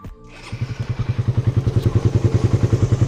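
A Raider 150 motorcycle engine idles steadily at about 1,500 RPM after carburetor tuning, close and fairly loud, with a firm, regular thumping pulse after a brief start.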